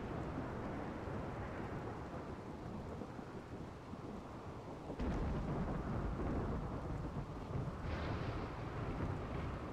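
Rain and rolling thunder from the video game RimWorld fill the scene with a dense, steady rumbling wash that swells louder partway through, with no voices.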